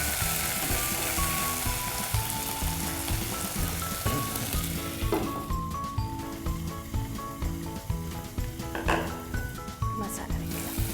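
Two dried red chillies frying in hot oil in a pan give a steady, close sizzle that runs the whole time beneath background music.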